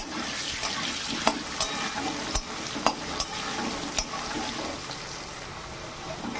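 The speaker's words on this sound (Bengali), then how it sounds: "আলুগুলো সুন্দরভাবে ভাজা হয়ে গেছে" Potato pieces frying in oil with a pinch of turmeric crackle in a steady close sizzle, broken by several sharp clinks of a utensil against the pan, with nobody talking.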